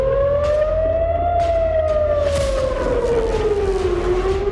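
A loud air raid alert siren in northern Israel wails steadily during an attack, its pitch slowly rising and falling in a long continuous tone with no break.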